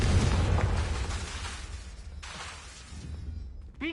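A Confringo blasting spell explodes in a Harry Potter video game, a rumbling boom with a long crackling decay and a further burst midway, loud and alone, ending with a brief whooshing sweep.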